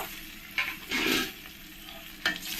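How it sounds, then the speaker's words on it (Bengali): Green chillies with ground coriander and cumin frying in a pan, a faint, close sizzle broken by a few short stirring scrapes, no voices. "ভালো করে একটু ফ্রাই করে নেব"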